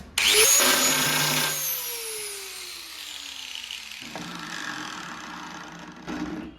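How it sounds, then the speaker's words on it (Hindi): An angle grinder fitted with a diamond disc whines loudly at high speed, then spins down with a falling pitch before revving up again; no voices are present. "इस ब्लेड को एंगल ग्राइंडर में लगाया है। अब देखते हैं क्या होता है।"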